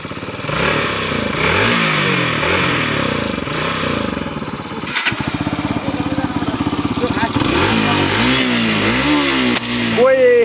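A scooter engine revs up and down in repeated rising and falling surges, close by and loud, with a brief cut in the middle and people talking over it.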